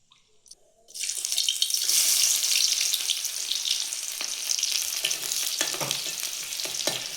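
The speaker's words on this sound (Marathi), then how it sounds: "तर आता कढईत आपलं तेल टाकून घेते मसाल्यांसाठी" Oil heats and chopped onion hits it in a kadai, a sudden loud sizzle that sets in after a moment of quiet and keeps hissing steadily, with scraping stirs toward the end.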